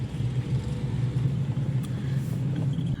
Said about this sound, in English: My car is kind of making a bit of noise